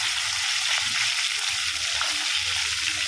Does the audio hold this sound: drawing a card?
no